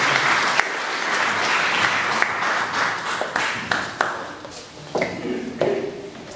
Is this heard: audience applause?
yes